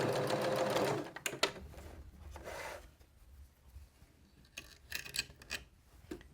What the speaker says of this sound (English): I'm going to go past it a little bit and back stitch to lock it all in place